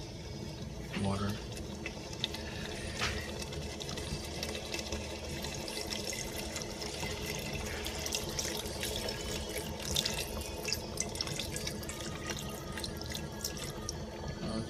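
Tap water pouring into a cooking pot, a continuous splashing rush that holds steady throughout, with speech faintly in the background.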